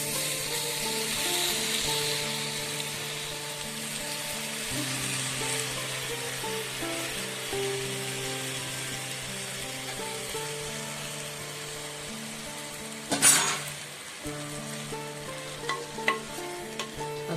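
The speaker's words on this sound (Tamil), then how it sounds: "தக்காளி நல்லா வதங்கட்டங்க" Tomatoes sautéing in a pan for a drumstick gravy, a steady low sizzle and bubbling that runs throughout, with a louder clatter of stirring near the end.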